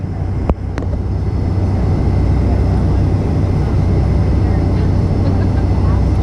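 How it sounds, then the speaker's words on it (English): Japan Airlines jet landing on runway 28L, heard from the ground between two parallel runways: a loud, steady low roar of engine and wind rumble that fills the whole stretch, with a couple of sharp clicks early on. "So that Japan Airlines jet was landing on 28L"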